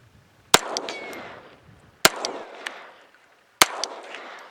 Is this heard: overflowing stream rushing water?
no